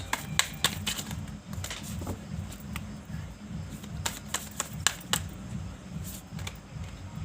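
Tarot cards being picked up and shuffled, giving a run of crisp riffling clicks and flicks scattered over several seconds against a low steady room hum.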